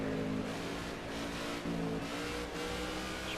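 A race car engine drones and revs in NASCAR 15 at Richmond, with the engine overheating, a loud continuous roar with slight surges, heard alone without talk.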